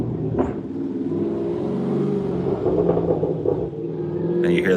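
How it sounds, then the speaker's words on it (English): A car engine revs roughly with an uneven, lumpy rumble and irregular stumbles suggesting misfires, close and loud throughout. "That engine does not sound happy."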